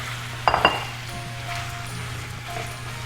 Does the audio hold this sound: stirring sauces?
yes